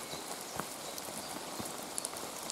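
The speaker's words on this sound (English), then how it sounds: "you can hear the rain hitting us" Rain falling steadily on hunters and an air rifle in a hide during squirrel pest control, a soft continuous patter with scattered sharper drop taps close by, no talking.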